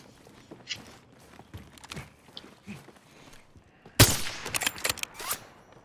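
Video game gunfire erupts in a sudden loud burst of rapid shots after a stretch of scattered footsteps and small thuds, then keeps crackling irregularly.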